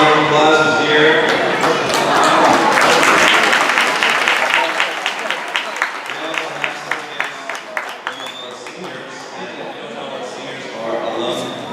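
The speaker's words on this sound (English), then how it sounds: "Just give a round of applause is here." Applause from a senior night audience fills the room, dense at first and then thinning into scattered individual claps, with voices and cheering mixed in.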